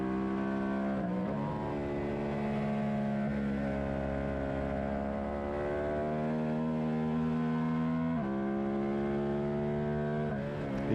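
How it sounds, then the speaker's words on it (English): Suzuki SV650 motorcycle racing into a turn on a track: a steady, loud engine drone holds high revs, with brief pitch dips and wobbles as it hits a bump. "You can kind of hear on entry into turn 6 there, the bike makes like a woo woo kind of noise. That's as we hit the bump."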